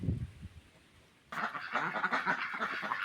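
Ducks eating grapes tossed to them, loud honking and quacking calls, close and overlapping, a pause, then a busy stretch of excited quacks, no talking.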